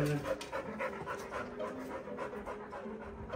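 A dog pants rapidly and steadily up close, quick rhythmic breaths continuing without pause over a faint background hum.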